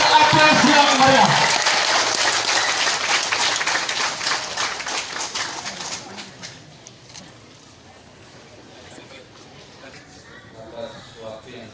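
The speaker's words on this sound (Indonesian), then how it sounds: "mari kita berikan aplaus yang meriah" Applause at a graduation ceremony: steady clapping from a crowd that fades over about six seconds into a quieter room, while a voice speaks over it.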